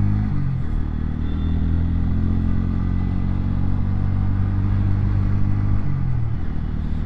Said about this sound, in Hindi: भाई साउंड्स आर वेरी क्रेजी यार और वेरी रिफाइन इंजन